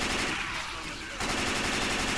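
Dense, continuous automatic gunfire fills the moment in Left 4 Dead 2 during the Dead Center finale, a rapid unbroken rattle that stays loud throughout, with a brief shift in intensity midway.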